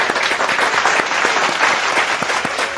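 An audience at a motivational talk breaks into sustained applause, dense and loud throughout, with occasional sharper individual claps standing out from the crowd.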